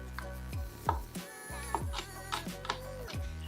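Garlic chopped with a knife on a cutting board while preparing Margherita pizza: a few sharp, irregular strikes, moderately close, over steady background tones.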